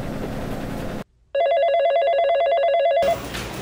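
A telephone rings in a steady, trilling electronic pattern for about two seconds as a call is placed to the SPKT desk of the Tanjung Priok harbour police, loud and clear, with people talking before and after.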